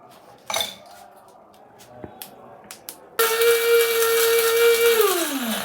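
A few light clinks and taps come first, then a 950-watt mini grinder starts suddenly, grinding cinnamon and garam masala with a loud, high whine. The pitch holds steady, then drops as the motor winds down.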